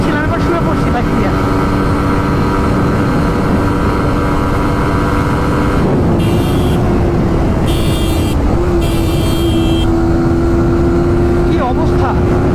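A blue Suzuki GSX-R sport motorcycle ridden at speed, a loud steady engine drone with rising pitch and strong wind rush throughout, with brief higher tones near the end.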